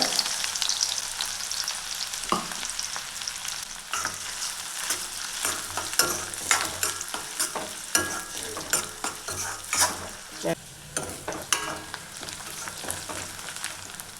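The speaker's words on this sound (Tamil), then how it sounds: "ஜீரகம் வெடிச்சது கட் பண்ண வெங்காயத்தை சேர்த்துக்கலாங்க" Chopped onions sizzle and crackle in hot oil with cumin seeds, with intermittent stirring scrapes and pops throughout, close and steady, with no talking.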